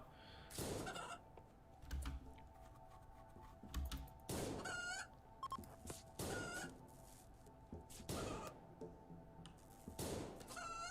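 Chickens and a hen in a video game, with repeated short clucking and crowing-like calls recurring across the span, alongside thuds of melee hits, fairly close and without talk.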